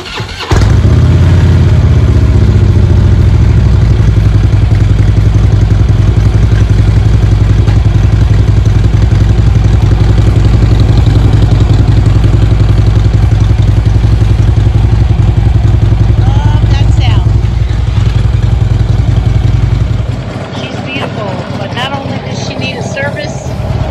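A Harley Ultra motorcycle engine idles steadily to warm its oil, a loud, close, continuous low rumble that holds for about twenty seconds before cutting off abruptly near the end.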